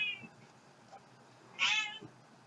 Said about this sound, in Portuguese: Até o gato está reclamando.